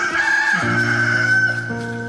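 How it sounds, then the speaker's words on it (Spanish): A rooster crows once in a long, clear cock-a-doodle-doo, loud and close, dropped into a dramatized Spanish audio retelling of the Gospel of Luke, chapter 22, with no talk over it. "No había terminado Pedro de hablar cuando de inmediato el gallo cantó."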